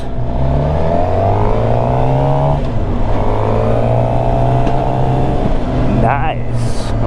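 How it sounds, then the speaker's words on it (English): A Repsol Honda motorcycle with a shouty aftermarket exhaust revs loudly nearby over the steady engine drone of another bike, its pitch climbing through the gears, while a rider talks over it. "Repsol Honda with a shouty exhaust."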